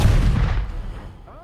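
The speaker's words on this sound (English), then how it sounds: "I love when cannon fire." A single deep cannon blast booms close and loud in a video game, then fades into a rumbling decay, with a brief faint voice near the end.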